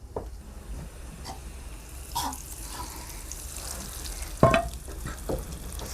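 Tempering poured into a bowl of rasam rice gives a short sizzle and crackle over quiet kitchen background, with one sharper burst partway through.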